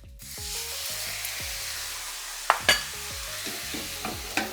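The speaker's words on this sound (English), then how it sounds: "pour the soy sauce directly onto the pan, so that it sizzles and caramelizes a bit" Soy sauce sizzling steadily in a hot pan of Japanese fried rice, with occasional metallic clinks and scrapes of stirring over the constant hiss.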